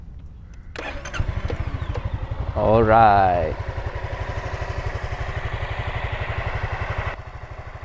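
A Honda Forza 250 scooter engine cranks and catches with a brief rising whine, then settles into a steady, even idle close by, with a voice speaking briefly over it.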